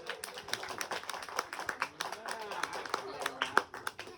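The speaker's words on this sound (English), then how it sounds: "Give her a big round of applause" A small audience at a magic show claps for the magician's assistant with scattered, uneven hand claps, mixed with voices and cheering.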